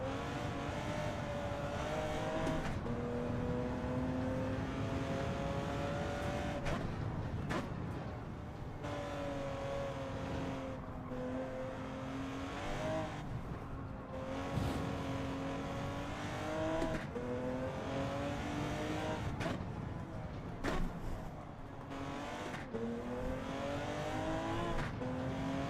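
A race car engine in the video game Gran Turismo 7 revs and shifts repeatedly, rising whines climbing and dropping through gear changes with brief lifts off the throttle, loud and continuous throughout with no speech.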